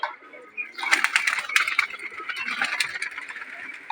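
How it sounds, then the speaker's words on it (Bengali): A visiting pigeon among recently released young birds, giving near, busy wing flutters and soft calls in a steady stretch of bird activity, with no voices. "একটা অতিথি কবুতর আছেন"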